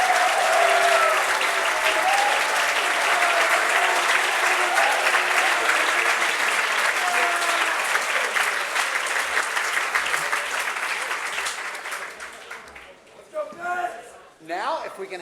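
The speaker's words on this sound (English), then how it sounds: "give all of the candidates a round of applause for a terrific debate" A debate audience at a party convention evening assembly bursts into sustained, dense applause for the candidates, loud and steady for about twelve seconds before thinning into scattered claps amid crowd murmur and a few voices.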